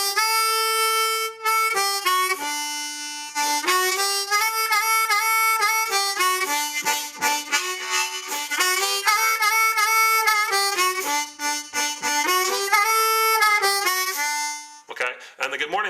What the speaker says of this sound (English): the up and down blues lick sounds like this.